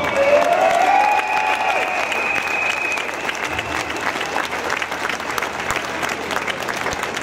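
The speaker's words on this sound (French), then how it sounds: "Vous pouvez d'abord vous applaudir vous-même" Crowd at an outdoor anti-pass rally near the French Senate applauding steadily, a dense sustained wash of clapping that fills the whole stretch at fairly loud level, with no one speaking over it.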